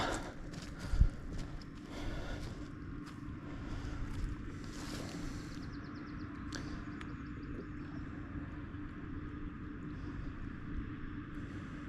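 A small bait boat motor hums steadily across an open fishing lake, with lapping and wind noise around it, continuing at an even level with a brief bump near the start.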